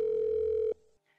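A phone call's ringback tone, placed to summon someone to the scene, sounds as one steady loud tone that cuts off abruptly, followed by a brief faint trailing blip.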